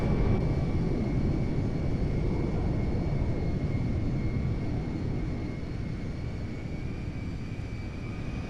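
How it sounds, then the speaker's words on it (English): A C-17A Globemaster III in the GTA 5 video game roars with reverse thrust after landing, a loud, steady broadband engine rumble that holds for several seconds and eases slightly toward the end, with no talking. "Reverse thrust is out."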